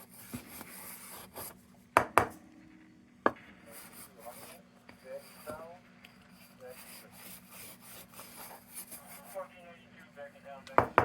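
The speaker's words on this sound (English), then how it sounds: "I am really using this piece of steel wool down to the nub here" Steel wool scrubs an aluminum Adlake railroad kerosene lantern with rhythmic, close-up rasping strokes, punctuated by a few sharp knocks and clanks of metal, while someone speaks intermittently over the scrubbing.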